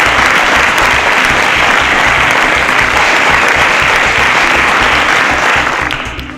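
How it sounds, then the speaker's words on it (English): Studio audience at a quiz show applauds the contestants, a loud, steady, close round of clapping that holds for several seconds before tapering off at the end. "A round of applause for all 9 contestants as they got the answer"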